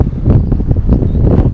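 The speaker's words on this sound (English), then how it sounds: "it's a bit windy today, I must say." Strong outdoor wind blasts and buffets the microphone in loud, uneven rushes, with a faint rustle of leaves in the background and no talking.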